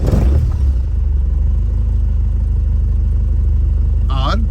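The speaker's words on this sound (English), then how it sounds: "All right, we're going to crank it up." Car engine with a Hellcat fuel pump catching and starting, then settling into a loud, steady, close rumbling idle with a rapid pulsing beat; a brief sharp whine near the end.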